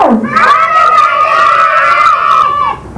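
Children at a first birthday party shout together in a loud sustained contest yell, a single long chorus of screaming voices lasting nearly three seconds before cutting off.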